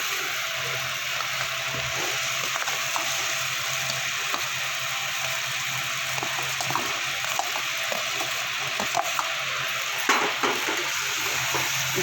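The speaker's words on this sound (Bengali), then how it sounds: "সমস্ত মশলার সাথে আলুটা আমি কষিয়ে নেব" Fried potatoes stirred and sautéed in a spice masala for a spicy cauliflower curry, a steady low sizzle of frying with intermittent scraping and clinks of a spoon against the pan throughout.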